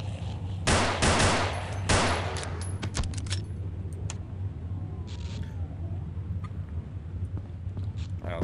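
Pistol shots ring out in the video game Afraid of Monsters as a few loud, sharp reports near the start, then fade into a busy, rumbling game soundscape.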